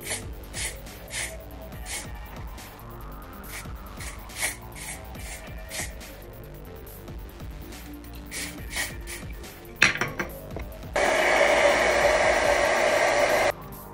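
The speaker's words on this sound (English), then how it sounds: "And then I'm gonna blow dry this down." A hair dryer blow-drying a wig starts after quieter rustling and handling noises, then roars steadily and loudly for a few seconds before cutting off.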